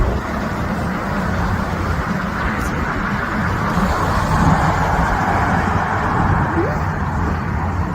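A car passes near thick wildfire smoke in Los Angeles. A loud, steady road rumble with broad motor and tire noise fills the whole stretch without letting up.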